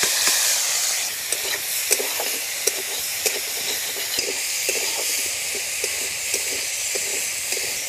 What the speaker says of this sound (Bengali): চিংড়ি মাছটা দিয়ে এবার ভেজে নেব